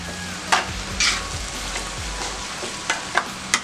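Spinach sautéing in oil with tomato and onion for a spinach dal mash, a steady close sizzle broken by several sharp stirring scrapes and clinks spread through the stretch, with no talk.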